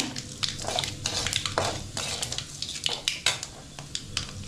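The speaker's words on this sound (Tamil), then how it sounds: "நல்லா கடுகு உளுந்தம்பருப்பு போட்டு நல்லா பொரிஞ்சோன்னே" Mustard seeds and urad dal crackle and pop in hot oil in a home kitchen, a dense, steady spatter with sharp little pops scattered throughout, close and fairly quiet, with no talking.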